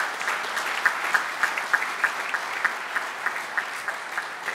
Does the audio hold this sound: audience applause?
yes